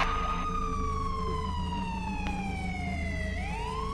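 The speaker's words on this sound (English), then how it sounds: "enough with the siren" A loud wailing siren in a Roblox prison-escape game, one long tone sweeping slowly downward before rising again, heard alone and close.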